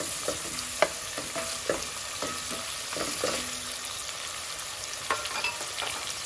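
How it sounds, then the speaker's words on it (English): Vegetables for a kale and white bean soup sauté in a pot, giving a steady low sizzle broken by sharp clicks and taps of a spoon stirring against the metal, close and with no talking. "And I saute it a little bit longer"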